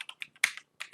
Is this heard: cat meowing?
no